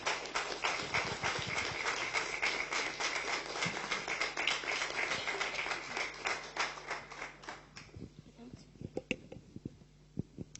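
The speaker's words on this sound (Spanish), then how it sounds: "Un aplauso para ellos." An audience at a talk on the political participation of Spanish migrants applauds the speakers, with steady, dense clapping that fades after about eight seconds into scattered claps and murmuring voices.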